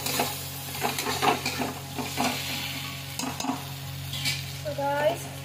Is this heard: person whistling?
no